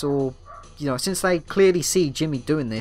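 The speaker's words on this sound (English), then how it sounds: "I apologise if you can hear that dog outside." A dog barking outside, with sharp yips and barks heard close behind someone talking over video game commentary, the barks repeating in quick bursts throughout.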